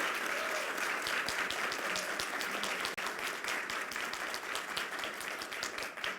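A round of applause for Marta, secretary of the Senate, at a Brazilian government launch event for women's rights: sustained, even clapping from a sizeable audience. It sounds slightly distant and holds steady throughout with no voices.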